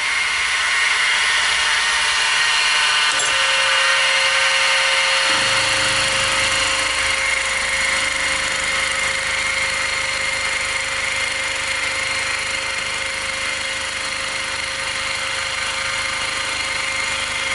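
A fly cutter spinning in a small benchtop mini mill gives a steady, loud machine whine with a sustained tone, and the pitch shifts partway through as the cut or the speed changes.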